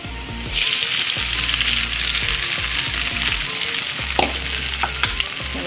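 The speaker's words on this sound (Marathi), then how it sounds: "त्या तेलामध्ये आणि बटाट्यामध्ये साबुदाणा छान मिक्स करून घ्यायचा" Sabudana (tapioca pearls) stir-fried in hot oil with potatoes and a little coriander gives a steady close sizzle throughout, with a few spoon scrapes and clinks toward the end and no voices.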